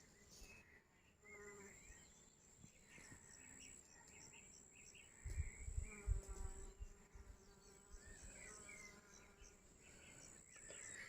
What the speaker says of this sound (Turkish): Bayağı arı var içinde.